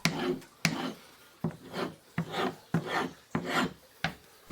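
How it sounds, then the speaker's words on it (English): A firewood hatchet blade stropped vigorously on both sides, giving a series of about eight brisk rasping strokes in a steady rhythm, close and clear with no talk. "then I'll vigorously strop both sides to break off the wire edge"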